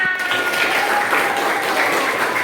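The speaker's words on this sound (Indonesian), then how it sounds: "tepuk tangan untuk kita semua" Classroom children clapping together at the close of a lesson, a steady, fairly loud burst of applause that cuts off abruptly at the end.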